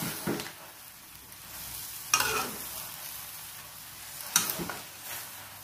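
Cabbage being stir-fried with vegetarian noodles in a full wok, heard as a steady low sizzle broken by three scraping, tossing bursts at roughly even intervals, with no talking.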